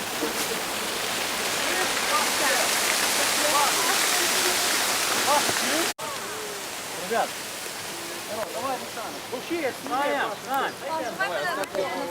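Steady hiss of rain falling outdoors near a river, loud and constant at first, then thinner and broken by close voices talking over it.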